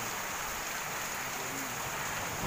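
Heavy rain pours down outdoors during a wild boar hunt with nets and dogs, a steady, dense wash of noise with no voices.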